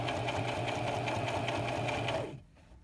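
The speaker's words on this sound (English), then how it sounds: "I'm going to put my fabric beside that green tape and sew." An electric sewing machine stitches fabric for a fitted face mask, a steady fast mechanical whir with rapid needle pulses running loud and continuous for about two seconds before stopping abruptly.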